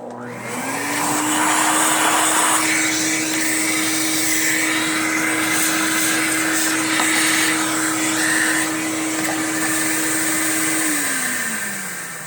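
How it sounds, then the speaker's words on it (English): A vacuum cleaner starts up, holds a loud, steady whine for about ten seconds, then winds down, heard alone with no talking. "let's vacuum this thing out"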